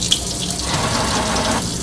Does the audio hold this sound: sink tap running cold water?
yes